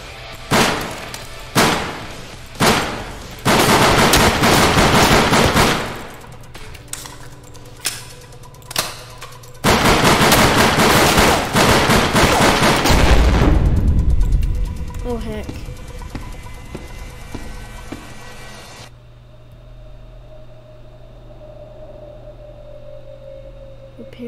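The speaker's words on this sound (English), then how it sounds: "I guess I'll shoot all my bullets." Rapid gunfire in an SCP horror video game: a burst of sharp, loud shots in quick succession, with shattering glass-like crashes and a brief quiet tail afterward.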